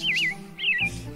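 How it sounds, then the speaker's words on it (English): A bird sings two clear, warbling whistled phrases close by, with faint background hum underneath. "The birds that sing for you."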